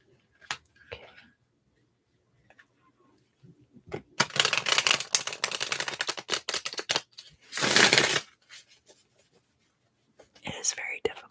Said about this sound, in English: It is very difficult to shuffle these cards.